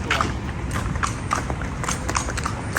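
A horse walking in the Dominican Republic, hooves clip-clopping in a steady uneven rhythm close by over constant outdoor background noise, with no clear talk over it.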